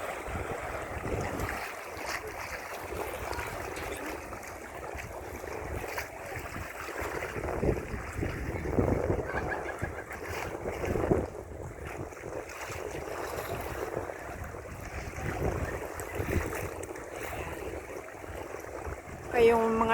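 Afternoon wind sweeps across Repulse Bay in Hong Kong, a steady broadband rush with choppy waves lapping nearby, continuous for the whole stretch and carrying faint voices in the background.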